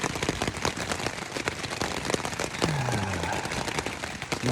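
Wind and heavy rain batter the surroundings during a night storm in Maryland on the Appalachian Trail, a dense, loud patter of drops on a surface with gusty rushing throughout.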